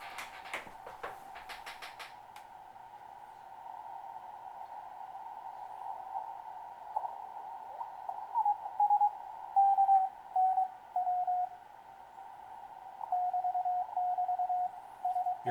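A homebrew 40-meter CW transceiver's receiver is tuned across the band, giving a steady tone with hiss and intermittent beeping Morse-like pulses, moderately quiet with no talking.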